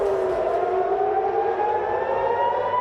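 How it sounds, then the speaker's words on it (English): Air raid sirens in Israel during an Iranian missile attack sound a loud, sustained wailing tone that slowly glides in pitch, with no talk over it. "The sound of air raid sirens as Iran fires a barrage of missiles into Israel today"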